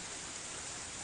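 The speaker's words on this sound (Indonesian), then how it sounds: "hujan kembali mengguyur dan menyebabkan air kembali naik di perumahan Kodam 3" Steady heavy rain pours over a flooded housing complex, a dense, continuous hiss of water falling on surfaces and standing floodwater, with no voices.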